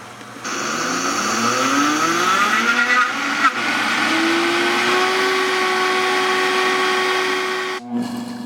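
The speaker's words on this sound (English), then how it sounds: "the blades are really spinning the hazelnut spread" A Vitamix 300 blender with a 2.2 horsepower motor working hard through hazelnut spread, a loud, steady high-pitched whine whose pitch climbs then holds, running nearly continuously before cutting out near the end.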